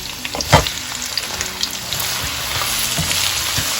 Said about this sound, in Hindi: अब जिसमें मैंने भिंडी फ्राई की है उसी बर्तन में मैं प्याज डाल रही हूँ।